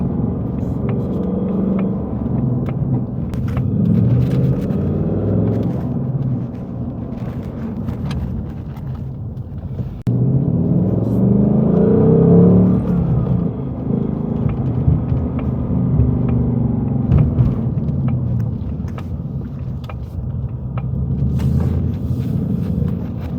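2024 Ford Mustang Dark Horse accelerating from inside the cabin during a ride, a loud, deep engine rumble that swells twice as the car pulls hard, with road noise continuing throughout.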